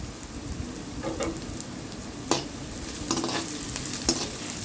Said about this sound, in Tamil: உப்பு போட்டு நல்லா வதக்கிக்கணும்